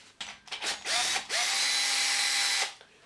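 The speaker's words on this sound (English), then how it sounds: "we can use that to undo the nut, absolutely no problem at all" A power tool fitted with a standard shallow 19mm socket undoes a nut, giving a few short bursts and then a steady, loud whir for about a second before stopping.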